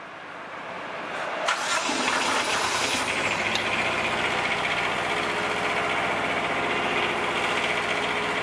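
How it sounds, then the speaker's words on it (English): Generator engine of a TRIME X-START mobile lighting mast cranks and catches after a short pause, then settles into a steady, fairly loud mid-pitched running drone that holds to the end. "Let's start the engine."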